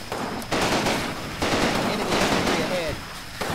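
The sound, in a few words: machine gun fire in the video game Combat Mission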